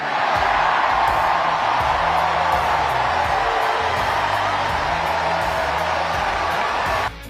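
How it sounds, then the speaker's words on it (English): Crowd cheering: a dense, steady roar of many voices holding loud and unbroken for several seconds before cutting off abruptly at the end. "And the crowd went wild"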